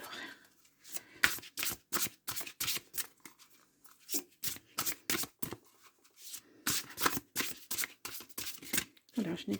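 Oracle cards are shuffled by hand in rapid bursts of crisp riffling and sliding, close and fairly quiet, with short pauses between runs and a voice speaking now and then.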